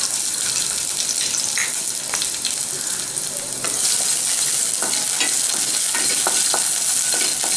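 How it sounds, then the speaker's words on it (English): Garlic and green chili sautéing in ghee or butter, giving a loud, steady close-up sizzle broken by scraping and clicking stirs. "Just saute this for a few seconds."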